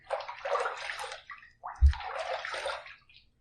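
Water splashed onto a head by hand before lathering for a shave with a Fatip Piccolo open comb safety razor, two close wet sloshing bursts with a brief thump between them.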